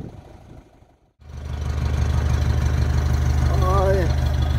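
A parked van's engine starts after a brief pause and settles into a loud, steady low rumbling idle, with a person talking briefly over it.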